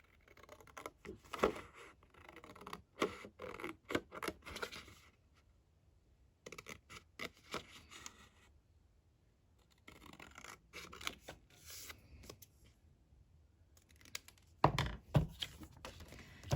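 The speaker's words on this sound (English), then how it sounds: "I'm going to do a very small outline here, and then I'm just going to cut this" Scissors snip through paper for a Christmas junk journal pocket in quiet, irregular bursts of short cuts and rustles, with paper handling thumps and pauses between, close and soft.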